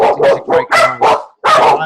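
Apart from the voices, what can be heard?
dog barking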